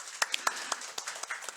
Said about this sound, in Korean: 우리 수고하신 분들에게 박수로 격려하겠습니다